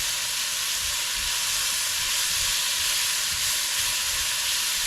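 Peppers frying with canned corned beef and sprigs of thyme in a pan, a steady, loud hissing sizzle that holds evenly without a break.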